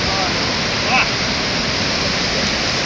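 Floodwater from flooding in Lempster, New Hampshire rushes through a residential yard like a whitewater rapid, a loud, dense, unbroken roar of churning water close by.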